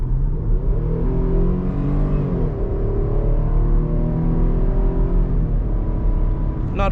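A 2021 Jeep Grand Cherokee Laredo's engine pulls steadily as the SUV accelerates down a hill, a continuous close rumble with rising harmonic tones, loud throughout and with no talking.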